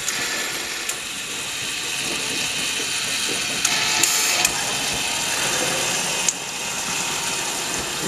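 Vedette Compact 655 washing machine draining after the wash, a steady loud mechanical hum and rattle with a few brief clicks and knocks, and a faint voice in the background.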